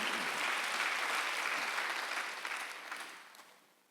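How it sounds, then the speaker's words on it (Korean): A church congregation at a Sunday worship service bursts into dense, steady applause that fills the room, holding strong before gradually tapering off toward the end. "박수하면서요"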